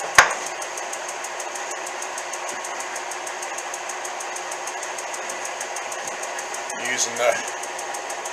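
A stapled leather drive belt ticks in a rapid, even rhythm on a running machine over a steady mechanical hum, with a brief spoken phrase near the end.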